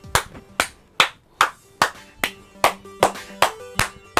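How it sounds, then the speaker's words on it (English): One person claps hands close to the microphone at an unboxing, about a dozen sharp, evenly paced claps in a steady rhythm with a small ring after each, and no talking. "We have to clap for Retro Game Junkie."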